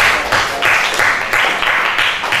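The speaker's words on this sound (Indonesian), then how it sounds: "3 jawaban yang bagus, kita beri aplaus dulu" An audience applauds after three good answers in a classroom-style session, a steady, loud patter of many hands clapping in close rhythm for a couple of seconds.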